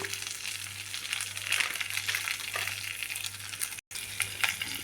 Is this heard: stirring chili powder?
yes